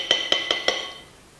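A utensil stirs flour, salt and baking powder in a bowl, giving four quick, bright clinks against the bowl that ring briefly before fading.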